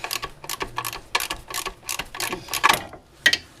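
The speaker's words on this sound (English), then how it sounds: "So I'm going to disconnect all of my lower bolts" A hand ratchet works loose the lower transmission mount bolts on a 2005 GM 4T65-E transmission, giving repeated quick clicking bursts in an uneven rhythm, close and fairly loud.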